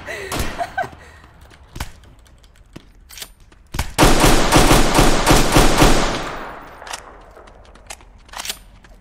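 Video game gunfire: scattered single shots, then a dense two-second burst of rapid automatic fire, loud and close, followed by a few more isolated shots.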